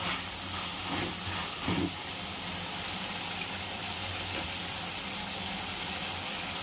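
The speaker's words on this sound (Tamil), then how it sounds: "பாருங்கள் எப்படி வேகுது பாருங்கள். சிக்கன் வெந்துடுது." Chicken curry simmers in a pot, giving a steady, moderately quiet hiss of steam and bubbling throughout, with a couple of soft low thumps early on and no talking.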